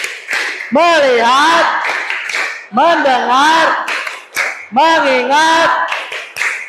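A class claps a rhythmic pattern in a classroom, sharp group claps falling between chanted phrases, close and loud, with voices speaking in unison in several repeated bursts.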